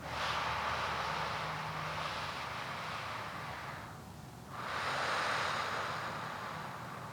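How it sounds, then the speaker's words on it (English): Slow inhalation through tightly pursed lips, as if sipping through a tiny straw, making a soft, steady airy hiss that fades briefly and then swells again, close and quiet with no talking. "Another way is to breathe in like you're sipping through a really small straw"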